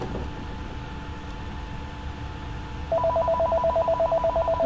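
Background office phone starts ringing partway through, a rapid repeating electronic trill in steady pulses that continues to the end, moderately loud over a quiet room.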